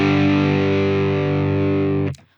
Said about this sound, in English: We add this note to a power chord to make the chord sound bigger or fuller.